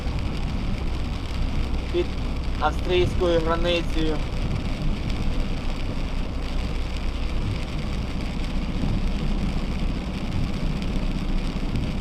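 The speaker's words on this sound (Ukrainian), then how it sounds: "Тут у нас падає дощик" Rain falls steadily on a truck cab while driving in Germany near the Austrian border, a constant hiss over a low engine rumble. Someone speaks briefly.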